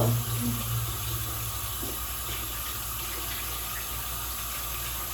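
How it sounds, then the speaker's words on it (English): Tap water runs steadily into a sink while dentures are rinsed under it, a constant close gushing flow with no talk. "I'm gonna rinse out the bottom one. Rinse them both."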